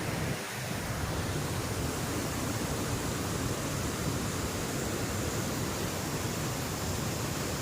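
Waterfalls pour all around Manor Dam in the monsoon, a steady, loud, unbroken rush of falling water with no break and no voices.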